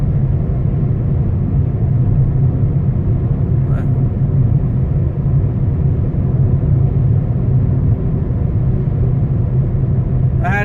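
Steady low rumble of a sporty car driving down a road at night, continuous and fairly loud from inside the cabin with no talking.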